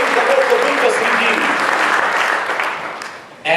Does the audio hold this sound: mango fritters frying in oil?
no